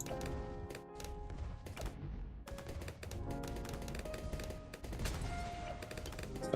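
Mortars fire in quick, dense volleys during a Bloons TD6 tower defense game. The rapid thumping pops overlap with game effects and music and stay at a moderate level throughout.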